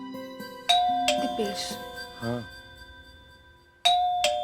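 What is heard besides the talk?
doorbell ringing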